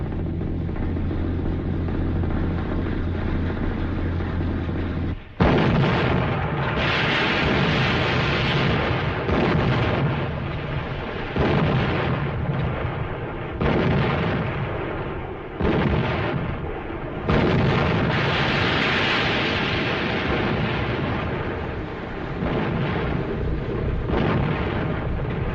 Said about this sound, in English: Stand by to commence firing.